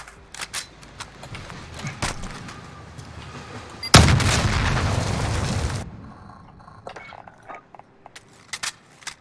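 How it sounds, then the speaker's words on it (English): Gunfire from a gun in the Warzone video game without recoil adjustment, emptying a full magazine in one loud, dense burst of about two seconds, with sparse clicks and lighter game sounds before and after. "So if I'm not gonna adjust for any recoil, and I'm just gonna shoot an entire clip"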